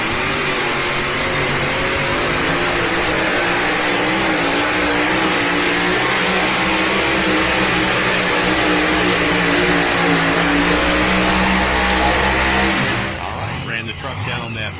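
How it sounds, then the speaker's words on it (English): A Chevy S10 pulling truck roars at full throttle down a dirt pull track, a loud sustained engine snarl that cuts off near the end, with an announcer talking over it. "Ran the truck down that right-hand side of the track."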